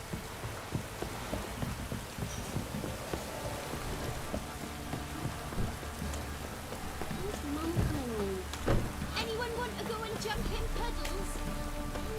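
Heavy rain pours down steadily with a dense hiss in the video game The Witcher 3: Wild Hunt, joined midway by scattered louder knocks and a brief rising call.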